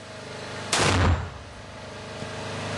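A 120mm mortar fires a single loud, sharp blast that booms and rumbles for about half a second before fading into quiet outdoor background.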